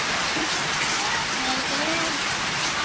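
Rain pours steadily onto the damaged roof of a house, a dense, even hiss from start to finish, with faint voices talking underneath.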